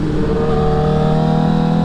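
Honda CBR1000RR sport bike engine held at about quarter throttle, a steady loud mid-pitched drone with strong harmonic whine running continuously without pause.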